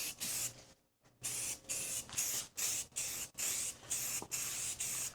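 Automotive paint sprayed in a light coat onto a guitar body, about nine short hissing bursts of a spray can in an even rhythm with brief gaps between them, close up and with no talking.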